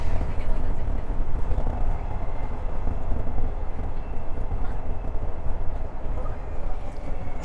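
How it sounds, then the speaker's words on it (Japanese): An Osaka Higashi Line electric train pulls out of Kyuhoji Station, giving a continuous rumbling roll with rhythmic wheel clatter on the track, heard close and fairly loud. "大阪東線の電車は旧法寺駅3番乗り場から発車いたします。"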